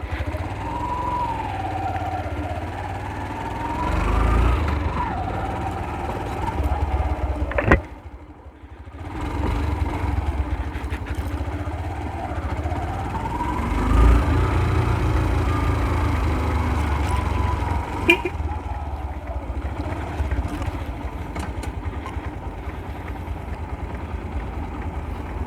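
A Yamaha YTX125 motorcycle engine fires up and settles into a steady, close idle, with a brief dip and rev changes partway through and no talking over it.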